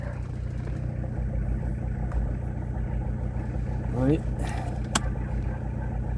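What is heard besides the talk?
Citroën BX TZD turbo diesel engine idling after restart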